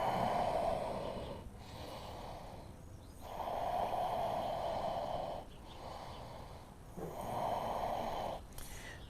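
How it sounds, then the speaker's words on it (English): Slow, deep breaths during a vinyasa yoga practice, loud and close, alternating long airy inhales and exhales in a steady rhythm with brief pauses between them. "A few more breaths."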